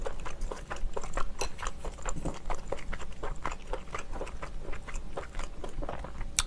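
Close, wet chewing and biting on steamed scallop dipped in wasabi, a steady run of crisp mouth clicks and squelches with no talking.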